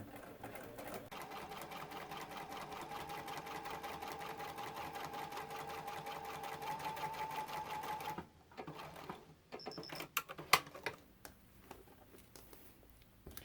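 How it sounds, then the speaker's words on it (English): A sewing machine top-stitching along a quilt sashing strip: a fast, steady mechanical whir of rapid needle strokes for about eight seconds, followed by scattered clicks and handling noises as the fabric is adjusted. "I'm going to stitch just along the very edge of the sashing strip, just a top stitch to hold it in place"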